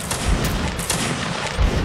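Musket volleys in Mount & Blade: Napoleonic Wars, a line of Napoleonic infantry firing: dense rolling crackle of many shots with sharp booming peaks, loud and continuous, no voices.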